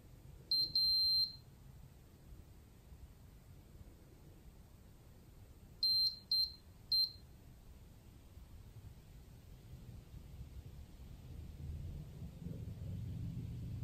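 A SARCTRAC 3D sensor beeps during calibration, high electronic tones sounding first as a short pair and later as a quick cluster of three or four, over a faint low background hiss.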